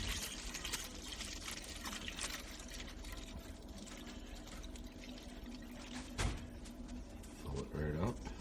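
A gallon of milk pours steadily into a large stock pot, a continuous rushing splash with a few clinks and bumps near the end.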